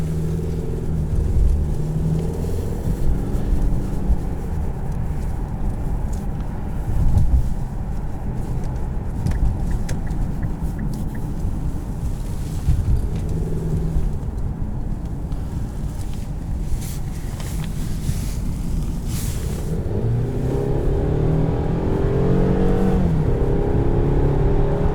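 A 2018 Infiniti Q50 Luxe with the 2.0T engine drives along, giving a steady, loud rumble of road and engine noise with some wind buffeting and a gradual swell as it accelerates. No one speaks.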